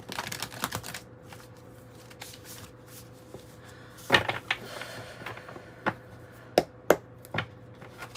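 Tarot cards are shuffled in quiet surroundings, giving soft riffling and scattered crisp taps and slaps of the deck, irregular and close, with a faint steady hum underneath.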